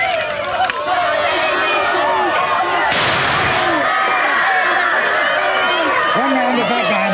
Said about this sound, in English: Prepare to fire gas. One round CS gas